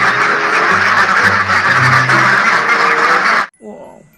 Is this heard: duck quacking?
yes